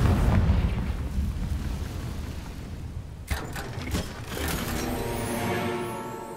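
Bombarda and Confringo explosion spells in Hogwarts Legacy roar as a loud rumbling blast that fades, then a sharper burst cracks out and a lingering debris-like rumble follows, with no voices.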